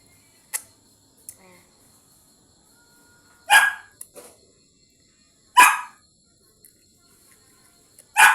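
A few sharp dog barks ring out in short, separate bursts, with quiet gaps and faint clicks between them.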